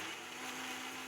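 An electric mixer grinder whirs steadily, grinding a spice paste with a little water for vegetable sambar, loud and continuous with a constant motor hum throughout, no voices.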